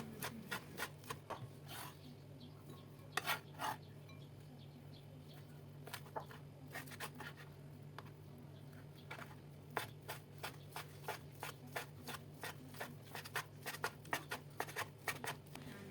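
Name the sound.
knife slicing fried cutlets thinly for doner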